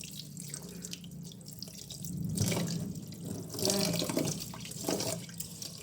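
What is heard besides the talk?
tap water running while washing rice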